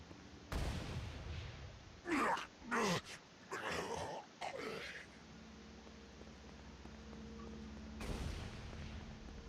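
Gunfire from a demon-shooting session in the video game Saints Row: Gat Out of Hell, with several sharp bursts and groaning impacts over a steady low game ambience and no talk.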